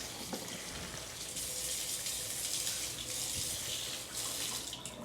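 Water streams steadily from a household faucet into a sink while houseplants are being watered, a soft continuous hiss and splash at low volume.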